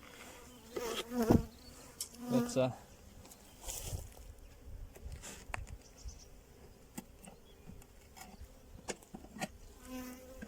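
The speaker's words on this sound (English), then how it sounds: "we have a queen wasp checking out our nest" A queen wasp buzzes around a beehive entrance, with close, rising-and-falling insect drones in short bursts over faint outdoor background and occasional handling noises.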